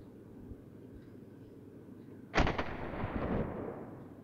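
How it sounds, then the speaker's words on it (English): A Sten Mark 2 submachine gun fires a single round in the World of Guns video game, one sharp, loud report with a short ringing decay after faint mechanical clicks. "now we fire it first and we see"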